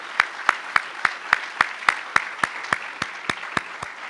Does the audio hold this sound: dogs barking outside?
no